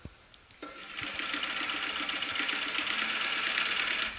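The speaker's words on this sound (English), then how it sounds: "this top stitch that we're doing that goes the whole way around" A sewing machine runs steadily, top stitching all the way around an animal pouch for rescued reptile park animals. The motor starts after a few faint clicks and then hums with a fast, even rhythm close by, with no talking.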